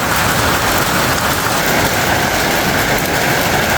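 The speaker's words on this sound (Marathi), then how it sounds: "पत्र्यावरती तडतड आवाज येतोय तुम्हाला मी बाहेर पाऊस दाखवतो बघा पत्र्यावरती एवढा खतरनाक आवाज येऊ राहिला" Heavy rain and hail hammer on metal roof sheets in a loud, unbroken roar, a dense crackling patter that stays steady and close throughout, with no voices.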